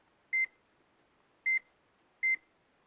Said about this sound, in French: pour, ça sonne, ça bip